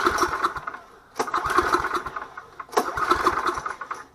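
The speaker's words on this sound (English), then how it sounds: "Starting the engine." Generator engine being started: three close, loud bursts of cranking and sputtering chugs separated by short pauses, without settling into a steady run.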